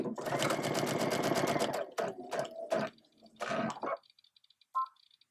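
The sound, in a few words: sewing machine with walking foot sewing fabric layers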